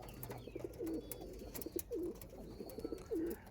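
Several pigeons coo in a loft, a handful of soft, repeated rolling calls at a steady pace against quiet background noise, with no one speaking.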